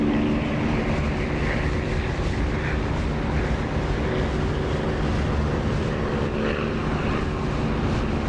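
Loud, continuous engine roar of an aircraft making a flyby in the DCS flight simulator game, a dense droning rumble that stays steady throughout without speech.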